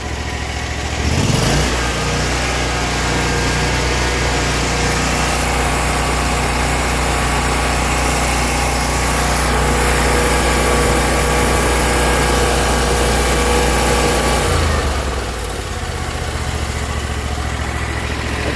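A Hustler lawn mower engine held at full throttle roars loudly and steadily close by, with a brief surge early on and a slight drop in pitch toward the end, no voices.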